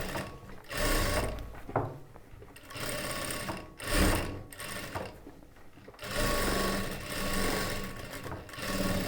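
A sewing machine runs double stitches along the sleeve and shoulder seams of a chudidar top, whirring loudly in bursts with short pauses and a rattling mechanical hum, and no voices.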